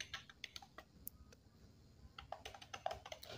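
Quick, light keystrokes on a computer keyboard as a dnsmap command is typed, a quiet irregular run of close clicks with short pauses between bursts.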